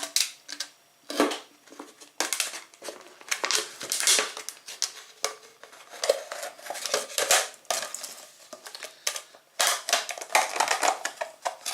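A blade cuts a section out of a plastic bottle, giving close, loud crackling crunches and sharp snapping clicks in irregular bursts with short gaps between them.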